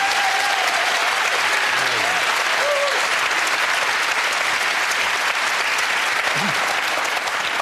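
A television panel-show studio audience claps warmly and continuously, a dense wash of applause. Faint voices and a brief whoop-like call come through under it.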